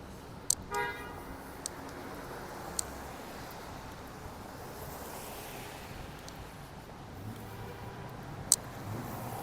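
Downtown city street traffic in Regina in November, a faint steady wash of passing cars with a few brief, sharp horn toots scattered through it.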